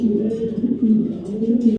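Racer pigeons coo in low, rolling, repeated calls, close and fairly loud, with no other sound before it stops abruptly.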